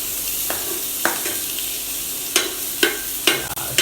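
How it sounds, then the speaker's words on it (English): Onions frying and being stirred in a pan until golden, a steady sizzle broken by several sharp scraping strokes of a spoon against the pan at uneven intervals, close and clear with no talking. "add some onions to it, and let's mix it properly until it gets golden brown or transparent"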